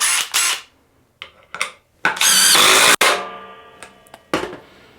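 DeWalt 20V XR DCF845 impact driver on speed 2 driving a 4-inch deck screw with a DeWalt bit, short loud bursts then a sustained rattling hammer, with clicks and a trailing spin-down close by.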